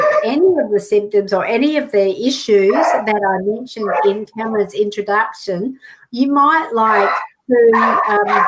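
A dog barks in the background during a live community TV broadcast, with short barks mixed under continuous studio conversation between presenters and a guest.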